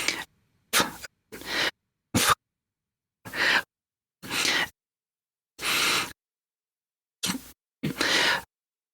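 Isolated human breaths, about ten separate inhales and exhales spaced irregularly with silence between them, close and fairly quiet, as processed by the iZotope RX9 breath filter.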